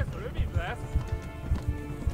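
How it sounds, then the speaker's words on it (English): Hoofbeats of a tired horse being pushed hard in the medieval game Kingdom Come: Deliverance, a rhythmic galloping clip-clop close by, with someone talking over it. "This horse is about had it."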